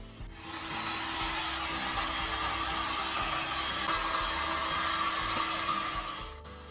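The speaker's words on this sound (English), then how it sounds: "Bring in a heat gun and pass warm air across all parts" Steady broadband whoosh of a heat gun blowing warm air across a disassembled TV remote control circuit board, keypad and shell, continuous and fairly loud for several seconds with no talking.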